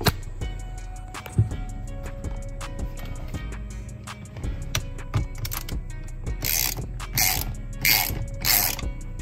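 A ratchet wrench loosens the steering wheel bolt on a Mercedes CLK500, giving a run of quick, close metallic clicks in short bursts with brief pauses, then louder, rasping strokes toward the end.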